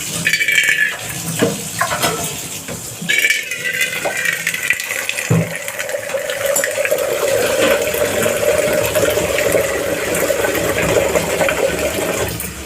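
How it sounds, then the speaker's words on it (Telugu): Water runs continuously into a metal container for making idli batter, a steady splashing hiss whose pitch shifts as the vessel fills, with a few clinks early on. "ఇలా ఒక దబర తీసుకొని ఇందులో వాటర్ పట్టుకుంటున్నాం."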